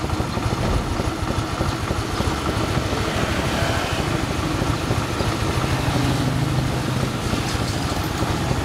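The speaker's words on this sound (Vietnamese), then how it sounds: "Tiếng máy cực kỳ êm." An engine idling smoothly just after starting, a steady low rumbling drone heard up close and unbroken throughout, with no voices.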